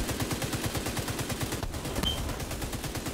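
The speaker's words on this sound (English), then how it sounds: "I wonder what the heck is shooting at me" Rapid, steady automatic gunfire in The Division 2 during a World Tier 3 event at the Potomac Event Center, a continuous dense rattle of shots throughout with a brief high tone near the end, no talk.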